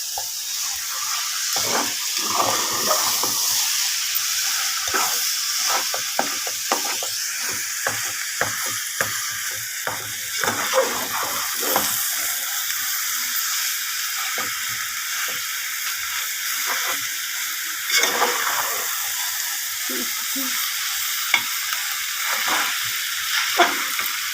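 Goat blood fry cooking in hot oil with chillies, a close steady sizzle broken by frequent spatula scrapes and clatters, with no voices.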